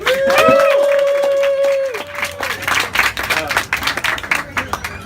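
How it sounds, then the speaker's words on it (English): An audience at an open-mic poetry night in an Orlando coffee shop cheers and whoops for the poet Beau Williams, then breaks into close, steady clapping that carries on to the end. "Clap more for him."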